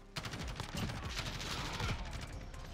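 Rapid bursts of automatic Kilo 141 rifle fire in Call of Duty Modern Warfare crackle through a short stretch of gameplay, dense and fairly quiet.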